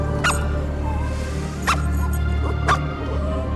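Spaz, a family dog, barks three times at spaced intervals, sharp and fairly close, over a steady low hum and faint background voices.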